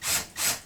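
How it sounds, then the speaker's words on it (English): A power drill bores a guide hole through a wooden door in two quick, loud, rasping strokes, close up. "try and keep this drill straight and level."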